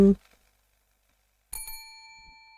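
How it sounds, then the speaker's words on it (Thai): Bell shaken at a door in a game, a bright metallic ring that starts suddenly after near silence and fades out with a long shimmering tail, after a brief spoken word at the start. "สั่นกระดิ่ง"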